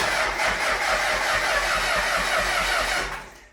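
A turbo diesel El Camino engine cranks over, a continuous rough mechanical churn holding steady for about three seconds before trailing off, heard close and alone.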